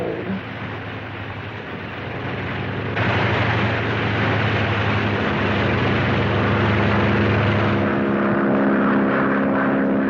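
A propeller airplane engine drones loudly and steadily, close by, its roar swelling slightly after a few seconds and holding on without a break.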